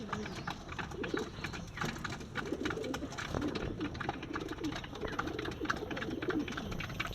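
A flock of breeding female pigeons coos continuously in a loft, with overlapping low throaty calls and occasional fluttering and shuffling.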